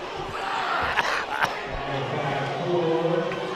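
A high school basketball crowd in a packed gym, Jasper vs. Russellville, roars in protest after a foul call, a dense, sustained wash of shouting voices with a couple of sharp thuds, while people talk over it.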